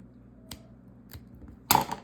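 Scissors snip a coiled basket's wrap-stitch material, a few quiet separate clicks followed by one louder, sharper cut near the end, close up with no talking.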